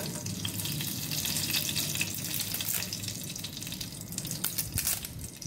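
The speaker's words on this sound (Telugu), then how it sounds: "ఆయిల్ హీట్ అయింది. ఇప్పుడు చెక్కని వేస్తున్నాను 3 ముక్కలు చేసి, లవంగాలు" Cinnamon pieces and cloves hit hot oil in a pan for a coconut-milk vermicelli pulao, giving a steady, close crackling sizzle with brief sharper spits and pops, no voices over it.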